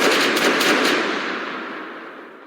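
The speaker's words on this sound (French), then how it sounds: "Une salve de fusil déchire le silence de la savane katangaise." A rifle volley cracks out loudly as a few overlapping sharp reports, then rolls away into a long fading rumble that decays over about two seconds in open savanna.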